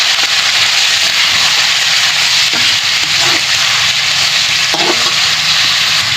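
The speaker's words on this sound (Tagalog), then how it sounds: "Kaya ilagay na natin ang karne. Haluin na natin." Beef or pork sizzling loudly in hot oil with browned garlic in a pan while cooking dinuguan, with steady frying hiss and a few scraping stirs, close and continuous with no talking.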